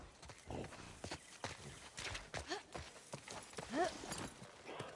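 Horse hooves clip-clopping in The Last of Us Part II game, a steady run of hoof knocks close by, mixed with rustling and a brief whinny-like squeal near the end.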